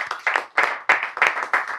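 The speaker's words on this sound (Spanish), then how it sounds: "Un aplauso para ellos que no han estado con nosotros" A small group applauds for a Spain national cricket team and officials at an honouring event, quick uneven bursts of hand clapping, close and lively, with no talk over it.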